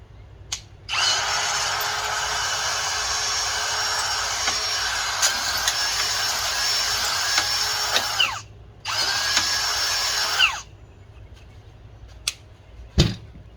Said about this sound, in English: I'm going to drill it out.